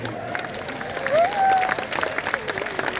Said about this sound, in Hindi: बजा ताली जोर से।